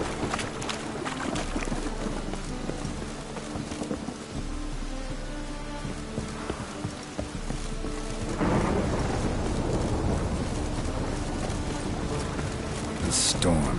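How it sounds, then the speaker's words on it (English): In The Witcher 3, a thunderstorm fills the scene with steady heavy rain and deep rolling thunder, and the storm grows louder partway through while voices speak over it. "The storm, damn it."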